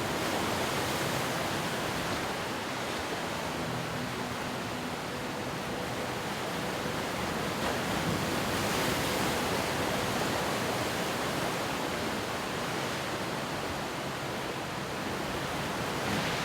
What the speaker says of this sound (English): When I'm sitting on the beach watching the waves crash in and looking out at the horizon